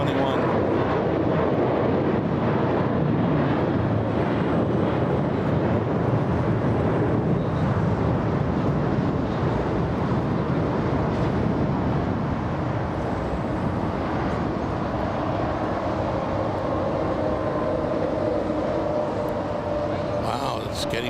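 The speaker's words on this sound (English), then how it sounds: "Got an American flight taking off right now. This is flight 1755 en route to Phoenix." American Airlines flight 1755 takes off from LAX bound for Phoenix, a broad, steady jet roar filling the air throughout, with a voice talking over it.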